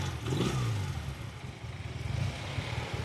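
A motorcycle engine runs nearby, a low throbbing idle with a brief rising rev near the start, steady and fairly loud with no talking.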